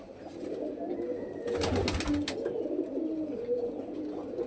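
Pigeons of fine breeds coo steadily in a loft, soft throaty calls overlapping throughout at close range, with a brief burst of wing flapping or rustling in the middle.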